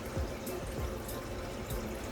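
Water poured into the soil of an indoor Syngonium albo houseplant, a steady soft trickle with faint splashing, close and fairly quiet, with no talk.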